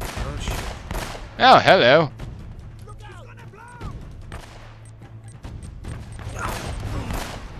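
Gunfire in Uncharted: Drake's Fortune, a short loud burst of rapid shots followed by scattered lighter game sounds, with someone talking briefly over it.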